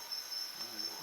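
Trinidad cricket chirping in a steady, high, continuous trill, moderately faint with a soft background hiss.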